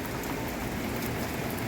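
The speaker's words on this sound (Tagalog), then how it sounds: "Ayan o, umuulan." Steady rain falling outdoors during a storm, a dense continuous hiss of drops on surfaces, close and even throughout with no voices.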